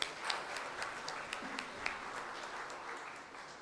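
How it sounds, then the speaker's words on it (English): Audience applause at a conference workshop after a talk on atrial arrhythmias: steady, moderately quiet clapping from many hands, sustained throughout with a few sharper individual claps standing out. "I request all the audience to have a round of applause,"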